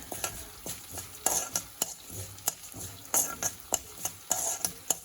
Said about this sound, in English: we have to fry this urud dal until it becomes light brown in color